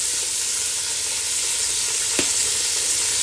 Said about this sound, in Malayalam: നമുക്ക് വലിയ ഉള്ളി ആഡ് ചെയ്യാം